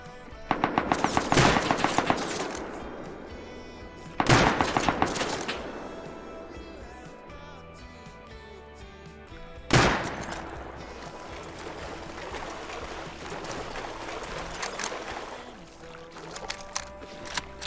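AK rifle fire in the Rust video game, several loud bursts of rapid automatic shots separated by pauses, each trailing into echoing decay, with ambient game noise between.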